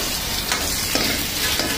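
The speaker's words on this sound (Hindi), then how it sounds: "यह तेल गर्म होने के बाद हमने क्या करते हैं, उसमें थोड़ा सा प्याज डाल दिया और थोड़ा प्याज को भुनने शुरू कर दिया।" Onions sizzle loudly and continuously in hot oil, a dense crackling hiss that carries on without a break and with no voices.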